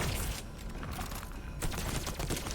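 Gunfire from a handgun-type weapon with a six-shot magazine in the multiplayer shooter Lemnis Gate, a burst of loud, close shots over dense game audio, with a brief lull in the middle before the firing resumes.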